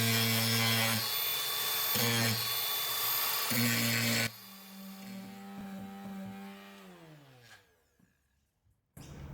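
An angle grinder fitted with sandpaper smooths a metal head on a workbench, giving a loud, whining buzz in short repeated passes, then a steadier run that winds down in pitch and cuts off.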